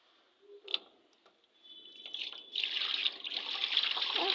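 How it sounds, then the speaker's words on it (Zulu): Water splashing and trickling as catfish are tipped into a fish-farm pool, starting with faint separate splashes and then building into a steady, fairly loud rushing pour. "faka ama catfish emanzini"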